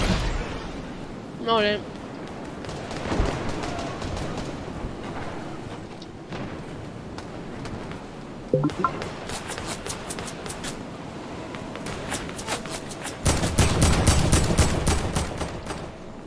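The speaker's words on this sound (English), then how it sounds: "There's like a billions of bombs going off." Rapid gunfire and explosions from a Fortnite match crackle in bursts throughout, building to a loud barrage near the end, with a brief spoken voice over the action.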